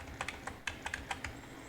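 Computer keyboard keys pressed in a quick, uneven run of about ten light, crisp clicks, close and fairly quiet, with no voices.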